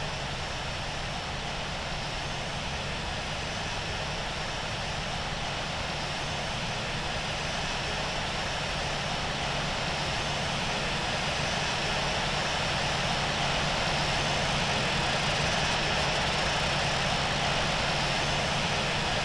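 Qantas airliner taxiing to the runway in the Infinite Flight game, with a steady, loud jet engine whine and roar that holds unbroken throughout.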